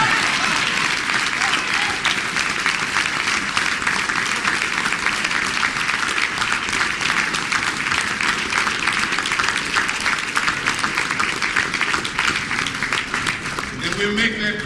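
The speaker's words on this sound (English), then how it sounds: "Give him another round of applause" Conference audience at a women's conference in a Los Angeles hotel giving a sustained round of applause, loud, dense clapping that carries evenly from start to finish.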